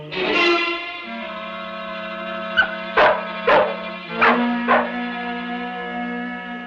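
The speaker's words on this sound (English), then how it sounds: "That dog's barking might have alerted them." A dog barks four or five times in quick succession, the sharp bursts rising over a steady musical drone and tonal backdrop with no talking.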